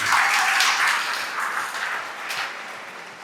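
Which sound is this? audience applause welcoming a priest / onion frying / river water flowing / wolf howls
audience applause welcoming a priest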